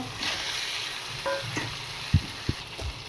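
Fish sizzles in a pan with chilli powder and tomato paste for a spicy fish curry, a soft steady frying hiss broken by a few brief low bumps.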